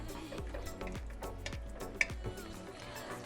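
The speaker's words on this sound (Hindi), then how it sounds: "और अब इसे अच्छे से हिलाते हैं" A spoon stirs chicken in a pan with soy sauce and vinegar while cooking black pepper chicken, giving soft repeated scraping strokes in a steady rhythm with a quiet sizzle underneath and one sharp tap.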